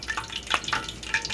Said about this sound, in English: I'm frying this egg roll, and I'm squeezing.